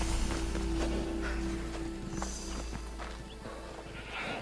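Horse in the video game Assassin's Creed Odyssey, soft clip-clop hoofbeats and faint snorting over a low steady in-game ambient hum, fairly quiet throughout.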